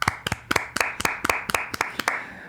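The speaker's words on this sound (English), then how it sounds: "We should have a clap for the landlords" Ten or so sharp, evenly spaced claps ring out in a steady rhythm, as though a small group is applauding landlords in a mock tribute; the claps are close and fairly loud, with no talking over them.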